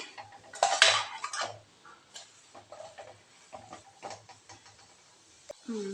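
A utensil scrapes and clinks in a pan while meal maker and carrot fry are stirred. Irregular metallic strokes come and go, louder near the start, over a faint background hiss.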